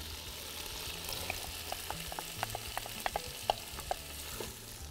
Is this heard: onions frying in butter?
yes